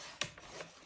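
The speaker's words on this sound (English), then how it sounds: "let's run through the trimmer again" A paper trimmer blade slides across cardstock in a papercraft stamping project, giving a few short, faint rasping strokes close by, with no voices.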